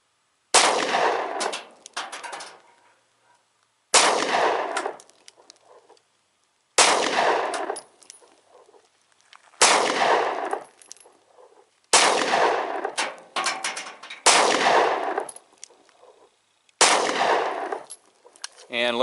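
Seven quick handgun shots at a time from a Ruger pistol ring off a steel target five paces away, each sharp crack followed by a metallic clang, in separate bursts with brief pauses between magazines.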